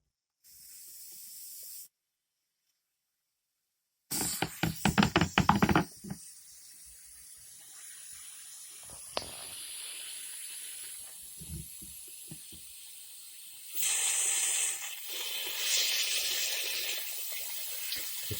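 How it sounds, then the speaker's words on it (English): A spray gun hisses in a workshop in short bursts while its controls are adjusted, then settles into longer steady sprays, loud and close with no talking. "Just tweaking the controls to get this thing to spray nicely"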